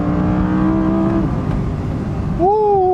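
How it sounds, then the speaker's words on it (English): An Audi R8 V10 rear-wheel-drive pulls hard in manual mode, its ten-cylinder engine droning loudly from behind the cabin, then shifting and climbing again in a sharp rising rev. "The engine noise is remarkable as it's pounding away behind you. That sound of the 10 cylinder is unbelievable."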